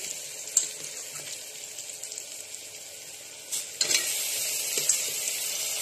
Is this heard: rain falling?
no